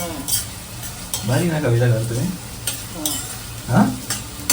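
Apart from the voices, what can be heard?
onions frying and being stirred in a pan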